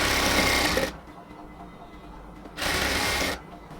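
A sewing machine stitches lace onto a cotton dress in two loud bursts of rapid whirring, the first about a second long and the second shorter after a quiet pause.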